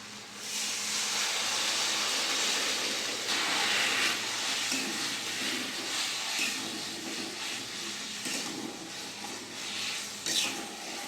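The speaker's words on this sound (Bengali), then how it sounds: "মশলা থেকে তেল ছেড়ে গেছে আমি জল দিয়ে দেবো" Water goes into a hot, oil-separated fried spice paste for a Bengali potol dorma gravy, giving a steady, close hissing sizzle that fades slightly over time.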